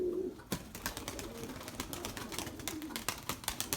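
White pigeons flutter and coo nearby amid sharp wing claps and rustling, with a brief low call at the start.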